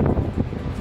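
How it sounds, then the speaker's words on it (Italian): Wind gusting over Portrush beach in Ireland, a steady rumbling buffet of close microphone wind noise with no break and no voices. "Al giubbotto il vento c'è"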